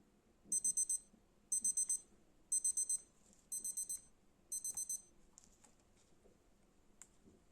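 A Citizen wristwatch alarm beeps in five evenly spaced bursts, each a quick run of four shrill, faint beeps, followed by a few soft clicks in a quiet room.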